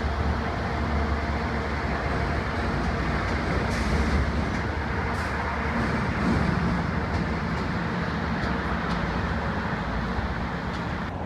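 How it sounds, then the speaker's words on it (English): Constant heavy traffic roar from many vehicles crossing the Zakim Bridge overhead in Boston, heard from underneath, a dense rumbling wash with occasional louder swells and thumps. "So many cars are going over us right now."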